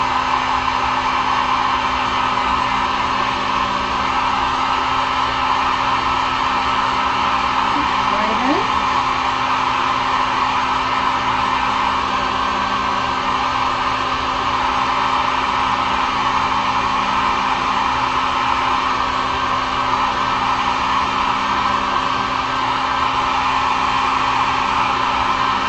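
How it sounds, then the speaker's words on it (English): A heat gun blows a steady, loud whooshing roar without pause as it dries acrylic paint on a wooden sign, the airflow unchanging throughout. "let me use the heat gun here"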